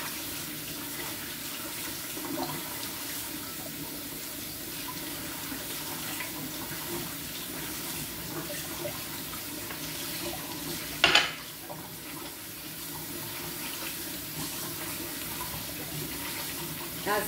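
Cold tap water runs steadily over lettuce being washed with salt in a kitchen sink, with a brief splashing clatter partway through as the leaves are handled.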